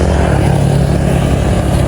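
A motorcycle engine idling close by, a steady rumbling drone that holds loud and even throughout with no speech over it.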